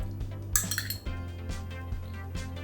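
A utensil scrapes and clinks against a bowl as sushi rice is folded together with seasoned rice vinegar, giving soft repeated knocks and a brief brighter clatter near the start.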